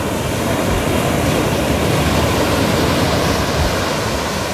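Waves break on the open-sea shore at Lentera Merah beach in a steady, loud roar of surf that carries on without pause, with no voices.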